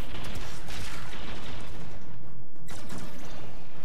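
Loud explosions and heavy gunfire in Warframe give a dense, constant roar that fills the whole clip, with a sharp blast near the end.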